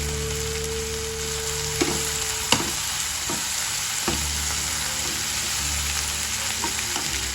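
Sliced green chillies frying in a pan of hot oil give a steady, close sizzle that runs throughout, broken by a few sharp clicks and taps, with no voices.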